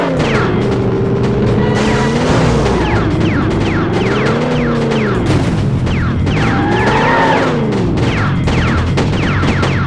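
Gunfire strikes an armored car during a chase in the 007 Racing video game, a loud steady barrage of booms and impacts over wavering engine drone and swooping effects.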